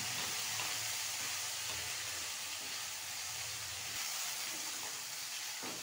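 Mixed vegetables for a mixed-veg biryani fry in a pan with a steady, soft hiss and sizzle that stays even throughout, close and fairly quiet, with no talking.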